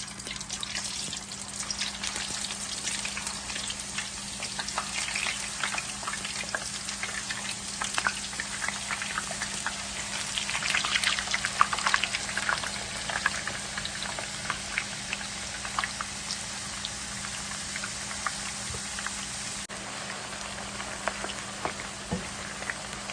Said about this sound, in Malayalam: ഇനി ഇവിടെ എണ്ണ നന്നായി ചൂടായി വന്നിട്ടുണ്ട്. അതിലേക്ക് ഇത് സ്ലൈസ് ചെയ്ത് ഇട്ട് വറുത്തെടുക്കാം.